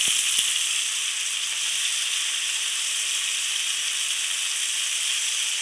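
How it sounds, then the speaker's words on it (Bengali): Prawns fry in a hot pan with a steady, close, unbroken sizzle and hiss that holds at an even level throughout. "চিংড়ি মাছ ভাজতে তাড়াতাড়ি হয়ে যায়। দেখতে পাচ্ছি বন্ধুরা, দেওয়ার সঙ্গে সঙ্গেই ভাজা হয়ে যায়।"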